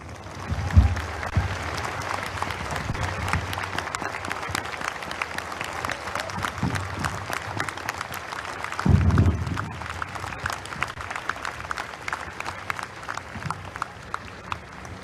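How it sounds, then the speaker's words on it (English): A high school Patriot Day assembly audience applauds in a sustained, dense wash of clapping from a large crowd filling a hall, with a few low thumps early and midway, continuing for the whole span. "A giant round of applause."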